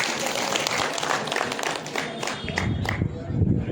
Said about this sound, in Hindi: मैं चाहता हूं कि जोरदार मातृशक्ति के लिए ताली बजाई जाए